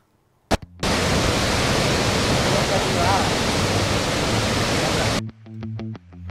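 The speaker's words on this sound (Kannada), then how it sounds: "ಜಲಪಾತಗಳು ಕೂಡ ಹಾಲ್ಮರಿಯಂತೆ ಧುಮ್ಮಿಕ್ತಾ ಇವೆ" A monsoon-swollen waterfall or dam outflow in Karnataka, heard as a loud, steady roar of gushing water for several seconds, cut short by a brief thump and followed by a tonal musical sound.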